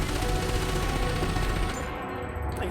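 Rapid sustained SRV gunfire in Elite: Dangerous, a dense loud crackling burst that continues nearly throughout and thins slightly near the end.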